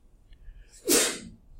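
A single sharp sneeze in a quiet math lecture room, a brief forceful burst after faint background hush, moderately close.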